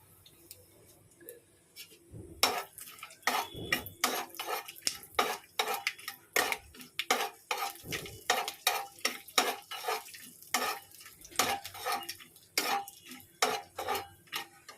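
Cardamom and cinnamon temper in hot oil while being stirred, producing a dense run of rapid metallic scrapes and clinks of a spoon against the pan over a low background sizzle.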